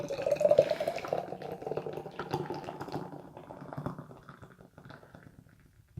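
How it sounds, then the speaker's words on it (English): A hard pour of Nitro Merlin beer from Firestone Walker Brewing Company into a glass makes a loud, bubbly liquid rush that slowly eases and thins out over several seconds. "Let's do the hard pour."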